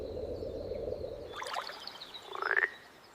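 A frog croaks in a short, close series of rasping calls over faint background noise, ending in a quicker burst.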